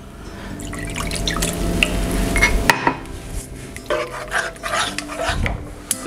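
Canned soup and milk stirred together in a skillet for a 1950s corn and chicken dish, with soft liquid sloshing and a spoon scraping and clinking against the pan, close and steady.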